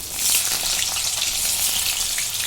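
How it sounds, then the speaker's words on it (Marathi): Chopped onion frying in hot oil with cumin seeds, a steady loud sizzle with faint stirring scrapes running throughout, no voices. "एक मध्यम आकाराचा कांदा घेतलाय भाजून घेते"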